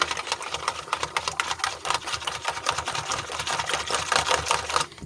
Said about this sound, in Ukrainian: Я вбила два яйця, збиваємо так.